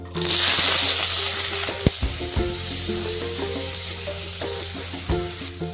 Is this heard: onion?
yes